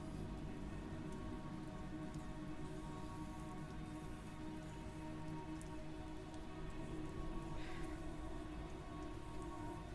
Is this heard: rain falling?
yes